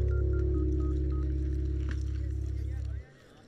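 A phone line gives a steady, loud dial tone along with a run of short keypad beeps. The tone cuts off abruptly after about three seconds and is followed by a faint hush.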